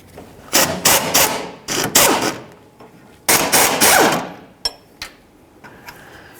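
Bolts come out of the center tie rod adjustment point on a 1992-2000 Chevy Tahoe with clusters of loud, close impact-wrench or hammering bursts, separated by short pauses and a few sharp metallic knocks.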